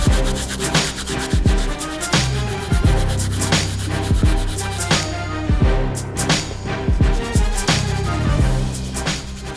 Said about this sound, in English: now we're going to go ahead and use a hard brass bristle brush to really whiten up the toe cap area